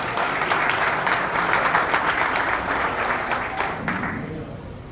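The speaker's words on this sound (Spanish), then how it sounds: "Otro aplauso para él." Crowd applause at a political rally in La Romana, a loud, continuous roar of clapping from a large audience that holds steady and tapers slightly toward the end.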